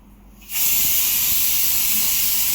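A pressure cooker cooking cauliflower, potato, brinjal and tomato curry bursts into a loud, sustained steam hiss after a brief quiet start, continuing steadily and close without a break.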